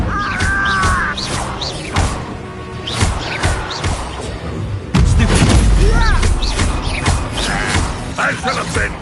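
Fiery Incendio spell blasts in Hogwarts Legacy combat, loud whooshing bursts and crashes repeating amid battle noise, with a heavier impact near the middle and a character's voice shouting over parts of it.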